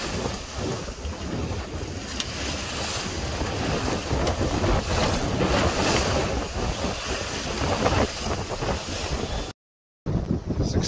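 A sailboat under way at sea after shaking out the reef, making about four to five knots, with steady wind buffeting the microphone over rushing water and waves, broken by a brief dropout near the end.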